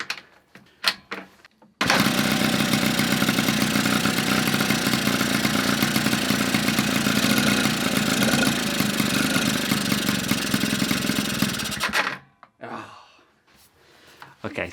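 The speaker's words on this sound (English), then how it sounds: "applying a little bit of throttle just makes it bog down" The engine of a vehicle abandoned for 20 years catches and runs roughly for about ten seconds, loud and close, bogging down under light throttle before cutting out, with brief talk before and after.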